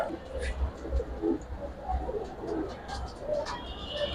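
Silver racing pigeons cooing in a loft or pen, soft repeated low coos close by, with faint voices and murmuring in the background.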